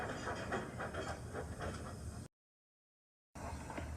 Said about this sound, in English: Edward picked up steam and proudly puffed past Spencer.